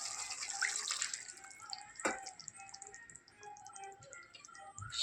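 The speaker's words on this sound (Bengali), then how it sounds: "সামান্য একটু জল দিয়ে কষি।" Water poured into a hot pan of egg curry, a faint splashing and sizzling wash with small drips and a soft clatter, heard close with no talking.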